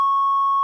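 A steady, loud censor beep covers speech in an Italian radio broadcast, one unbroken pure tone lasting under a second with no talk audible.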